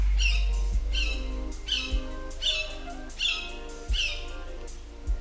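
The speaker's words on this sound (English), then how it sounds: "Yeah, that's a hawk. There's another one." A hawk, including a young one, calls outdoors in a series of short, sharp squawking cries repeated roughly every second or so, fairly close and clear over a quiet background.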